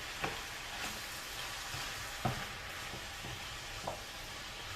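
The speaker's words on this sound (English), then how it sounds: "I'm going to cook the veggies until they're about tender" Vegetables fry in a pan for spicy garlic noodles with chicken, giving a steady faint sizzle with a few soft clicks and stirring knocks from the pan. No voices.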